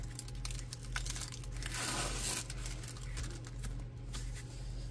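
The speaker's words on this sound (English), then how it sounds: "Third time trying to peel it up and it's still kind of fighting me." Protective film is peeled slowly off a diamond painting canvas, giving soft crinkling and tearing rasps that swell mid-way, faint and close over a low steady hum.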